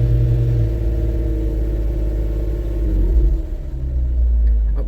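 Truck engine revved and held at high RPM to power a winch, a loud steady rumbling drone close by that shifts and dips near the end.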